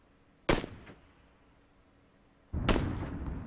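Two sharp gunshots from a weapon in PUBG Battlegrounds, the first a crisp crack with a short decay, the second heavier and followed by a rumbling tail, separated by about two seconds of quiet.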